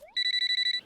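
A telephone in a Hindi cartoon rings with a bright electronic trill, a rapid pulsing tone lasting under a second after a short rising chirp, loud and alone.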